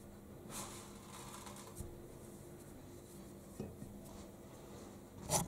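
Shredded kataifi pastry being spread into a pan for a cheese pie, heard as faint, soft rustling and light scraping with a few small clinks near the end, no talking.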